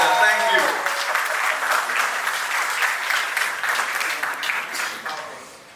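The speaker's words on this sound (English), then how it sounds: "With a huge round of applause and welcome them." A crowd applauds at the trailer launch event for the film Bambai Meri Jaan, with dense, sustained clapping that stays loud throughout and fades slightly at the end, and a voice speaking briefly at the start.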